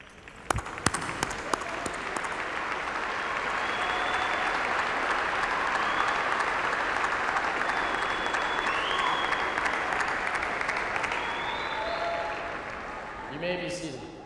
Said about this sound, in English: let's all stand now and applaud these influential people for their gracious